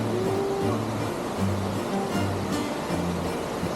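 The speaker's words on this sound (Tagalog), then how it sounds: "ngayon lang ako nakakita ng waterfalls na umaagos sa gitna ng bundok" Golden Waterfalls pour down a mountainside in Taiwan, a steady broadband rushing roar of falling water with low tonal hum mixed in, continuous and fairly loud.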